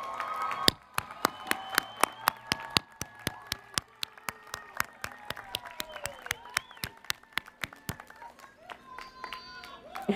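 Audience at a law school degree ceremony applauds graduates' friends and family, with steady scattered claps, some sharp and close, continuing throughout while a voice speaks faintly underneath.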